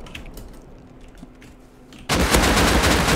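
Sustained burst of AK rifle fire in a video game, erupting loud and dense after two seconds of quieter in-game ambience and continuing to the end.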